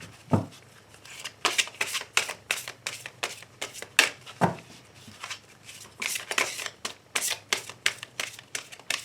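Tarot cards being shuffled by hand for a reading, close and crisp with rapid riffling and slapping strokes in a steady repeating rhythm, no voice.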